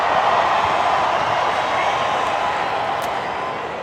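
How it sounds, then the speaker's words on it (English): A stadium crowd in the Rugby Challenge 4 video game during a Super Rugby match between the Wild Knights and Brumbies, a steady, broad roar of massed voices trying to chant, fairly loud and continuous. "Crowd trying to chant behind their team"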